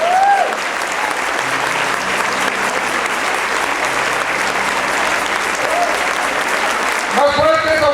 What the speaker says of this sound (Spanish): Más fuerte esa ofrenda de palmas al Rey de Reyes, Señor de Señores, por el Padre Javier.